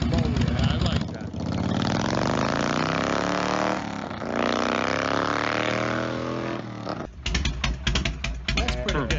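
A Harley-Davidson Evo engine runs loud and close, its pitch sweeping up and down through revs before dropping back to a rough, lumpy idle with sharp pulsing firing beats.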